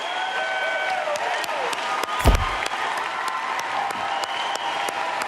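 Audience at a presidential debate applauding the Democratic nominee Hillary Clinton, a dense steady wash of clapping with one sharp thump partway through, fairly loud and continuous.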